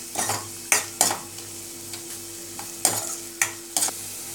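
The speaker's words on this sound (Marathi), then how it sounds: "कांदा आपला ट्रान्सपरंट झाला आहे" Onion fries in a pan with a little coriander for a shev tomato bhaji, an even sizzle punctuated by about eight loud, close scraping strokes of the spatula spread irregularly through the stretch, with no speech.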